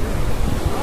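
Ocean waves wash onto a busy tourist beach where people are bathing, a steady broadband surf roar with some wind noise on the microphone and no speech.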